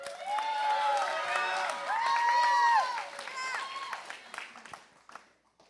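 Audience at a church testimony event applauding and cheering as a speaker named Liam is welcomed, a steady wash of clapping and shouts that fades out toward the end.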